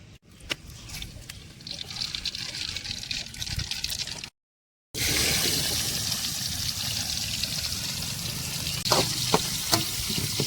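Store-bought cooking oil poured into a kadai for a village-style quail gravy, a steady liquid trickle and hiss that breaks off briefly, then returns louder as continuous sizzling with a few clinks, with no talking.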